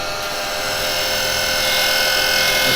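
Woodturning gouge cutting across a spinning workpiece on a lathe, giving a steady, loud, continuous hiss and whir that holds even throughout, with no talk.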